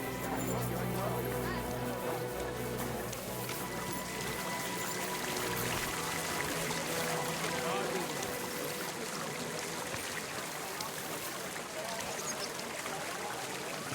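Water pours and splashes steadily from a city fountain in a medieval town square in Kingdom Come Deliverance 2, a continuous close gush with faint ambient game sound underneath.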